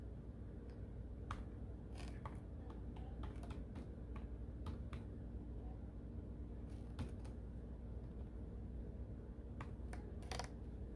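Quiet, irregular clicks of someone typing an email address on a computer keyboard while setting up a USCIS online account, scattered keystrokes over a steady low background hum, with no talking.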